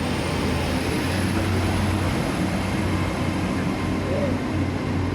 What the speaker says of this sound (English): The Torbay Express